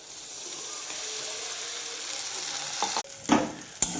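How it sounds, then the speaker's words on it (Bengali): Spice paste of mustard, poppy seed, chili powder and turmeric frying in oil, a steady sizzle that gives way near the end to a few scraping stirs of a spoon in the pan. "এটা দিয়ে একটু নাড়িয়ে নিতে হবে।"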